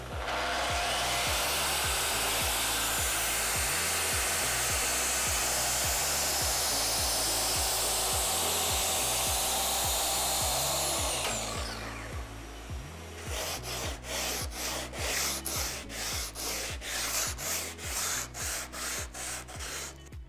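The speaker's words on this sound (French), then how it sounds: "venir ensuite passer avec la scie circulaire avec la profondeur au maximum" A circular saw with a tilting guard runs at full cutting depth along a shop-made guide rail through a wooden panel, a loud steady whine for about eleven seconds, then a rougher, pulsing cutting noise as the blade finishes.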